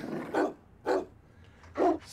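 Monster dogs in the House of the Dead Remake game snarl and growl in three short, loud bursts spaced about half a second apart, each a rough guttural roar, with no talk.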